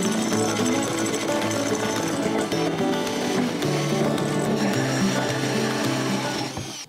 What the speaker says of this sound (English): Now I'm going to use this 4-inch hole saw to cut my hole.